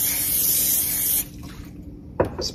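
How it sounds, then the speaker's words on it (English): A spritz of cooking spray hits a pan on a low-heat stovetop, a steady close hiss lasting about a second before cutting off, followed by a short clatter near the end. "And spray the pan."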